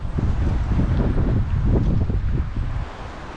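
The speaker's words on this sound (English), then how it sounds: "Look at the waves." Wind-driven waves lapping on a lake at Penrith Lakes, Australia, heard as a steady rushing wash with gusty wind buffeting the microphone throughout, fairly loud and close, with no talking.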